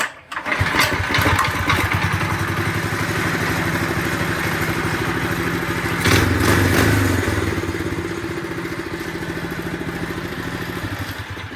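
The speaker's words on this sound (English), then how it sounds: "So now it starts pretty good at idle. So if we hit the kill switch," A minibike's small engine runs at a steady idle close by, a continuous throbbing drone that eases slightly toward the end without clearly cutting out.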